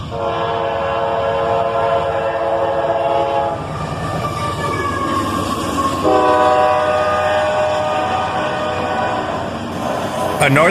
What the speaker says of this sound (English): A northbound tanker train, led by a pair of AC-44 CWs.